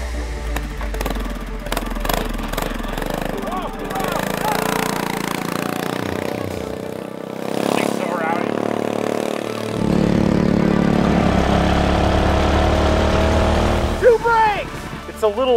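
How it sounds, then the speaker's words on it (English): A Coleman CT200U hotrod mini bike's small engine revs hard, droning high and rough with pitch swings and a sustained loud stretch, some sputtering, and speech heard over parts of it. "the engine is spinning so high that it's burning off extra fuel"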